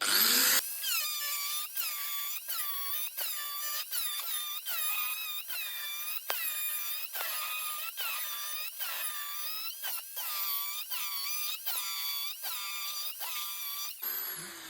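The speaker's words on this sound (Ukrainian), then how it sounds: "обертаємо пруток і починаємо різати" A power tool cuts through a metal rod that is turned between passes, whining in a steady high-pitched tone broken by short regular pauses, close and alone for about fourteen seconds.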